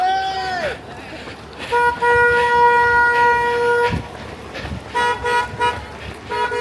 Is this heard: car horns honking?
yes